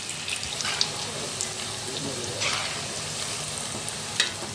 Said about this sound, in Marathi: आणि आपल्याला याला स्लो गॅसवरच तळून घ्यायचे आहे।